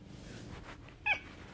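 One short, high cat meow rings out near the end, close and clear, over a quiet, faintly noisy room.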